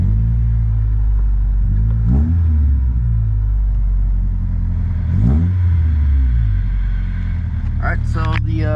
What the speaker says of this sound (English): All right, I'm gonna start it up, see if it reads a bit.